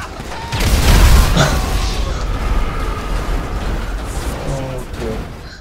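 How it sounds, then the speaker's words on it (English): Booming explosions in Grand Theft Auto V Online rumble through a noisy mix, with a heavy blast early on followed by lingering crackling and rumbling. "And with the explosions!"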